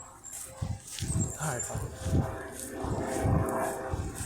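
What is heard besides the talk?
dog barking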